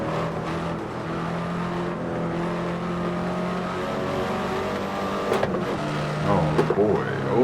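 Hyundai Elantra N pulling through a turn, its engine a steady droning hum with a sustained tone that rises and revs up toward the end, heard from inside the car.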